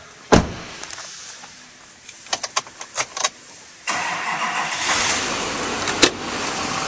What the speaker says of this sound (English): Now we'll start up this truck.